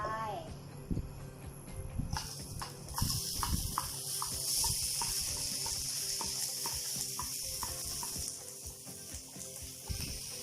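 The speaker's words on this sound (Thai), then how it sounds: "ผัดให้กระเทียมหอม ได้ที่แล้วเราก็ใส่แฮมลงไป" Ham dropped into a pan with garlic already frying, a loud sizzle bursting up and settling into steady crackling spatter, with clanks of stirring and a faint voice underneath.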